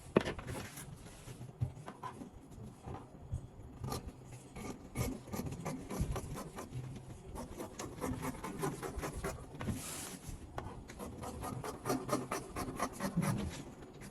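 Fabric for a kaftan dress being trimmed out with a continuous close rasping, rubbing cut that runs steadily throughout at moderate level, with no talking.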